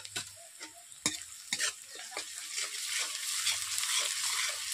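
Ginger paste hits hot oil with browned onions in a pan for a chicken curry, giving a steady broadband sizzle with sharp clacks of a spatula stirring, close and fairly loud, the frying growing denser toward the end.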